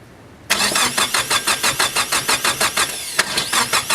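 A Nissan S15 with an SR20DET engine cranks on a rebuilt starter, giving a steady, loud rhythmic whirr of about a dozen even pulses that pause briefly and then resume, heard close up with no speech.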